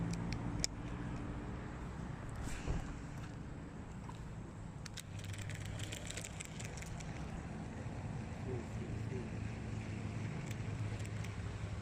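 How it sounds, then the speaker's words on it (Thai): Wind blows across a canal from the side during a snakehead fishing trip, a steady low rumble buffeting the microphone with a few faint clicks and knocks and no talking. "ลมพัดมาจากด้านข้างตีคู่เลย"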